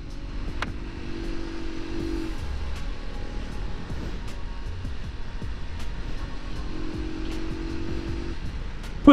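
A 2008 Honda Megapro Primus motorcycle engine, started after two years unused, runs at a steady idle with a couple of brief revs, heard alone and fairly close.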